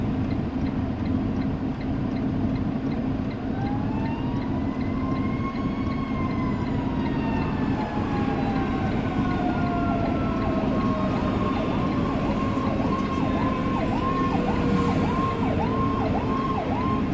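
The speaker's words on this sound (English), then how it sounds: "I hear sirens." Emergency vehicle sirens wail and rise and fall in long sweeps, later switching to a fast yelping warble, over the constant loud drone of a big rig's engine and road noise on a Virginia highway.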